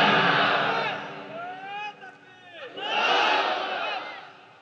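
A crowd at a religious sermon loudly chants takbir in unison, a swelling roar of many voices that fades, dips, then rises again in a second collective shout.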